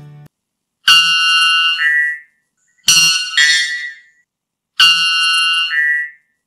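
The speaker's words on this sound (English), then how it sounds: "The world's loudest bird has been confirmed to be the male white bellbird." A male white bellbird, the world's loudest bird, gives three piercing, ringing whistle-like calls. Each call is sharp and held, separated by short silences, loud and close with no talk.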